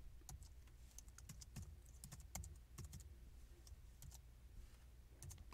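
Very faint typing on a computer keyboard: irregular quick key clicks in short bursts over a low steady hum.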